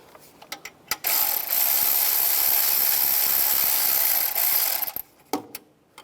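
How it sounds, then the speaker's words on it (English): 11mm socket ratchet loosening a hose clamp on a 2011-2015 Chevrolet Cruze during turbocharger work, a few faint clicks and then a loud continuous ratcheting whir for about four seconds, followed by scattered clicks. "Using an 11mm socket, we want to loosen up this clamp right here."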